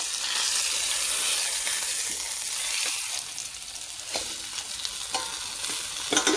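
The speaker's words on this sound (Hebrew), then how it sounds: "עכשיו כך לתת לו בערך עוד טיגון של 5-6-7 דקות" Barramundi fillet fries in a pan with a steady, loud oil sizzle, bright crackling throughout and a few soft scraping touches, with no talk.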